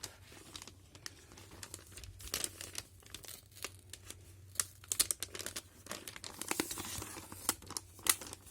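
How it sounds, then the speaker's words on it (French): A paper envelope is opened close up, with crinkling, tearing and sharp rustling bursts that grow busier toward the end, heard alone without talk. "Et on va ouvrir cette enveloppe."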